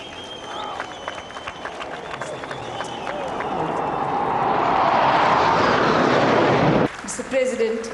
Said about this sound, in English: The Gripen fighter is capable of carrying out all fighter roles in a single mission